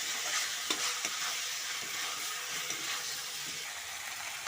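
Potatoes being stirred into a chicken curry in a hot pan, with a steady close sizzle of frying and occasional scraping strokes of the spoon, no talking.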